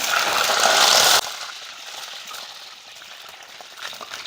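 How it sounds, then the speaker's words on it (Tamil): Brinjal pieces hitting hot sesame oil, a loud broadband sizzle for about a second that drops to a quieter, steady crackle of frying. "கத்திரிக்காயை நல்லா வதக்கிக்கோங்க"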